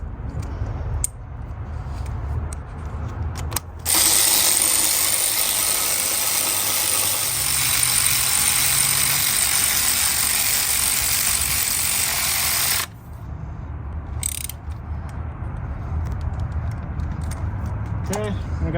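A power tool, likely a drill or impact wrench, works on the 12mm bolts of a Lexus ES 300 engine, a loud steady whir lasting about nine seconds, with quieter talking and workshop noise before and after.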